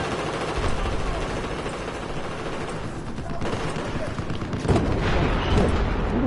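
Gunfire in Battlefield 4 conquest gameplay, a dense, continuous crackle of shots and distant booms filling the mix, with a player talking over it.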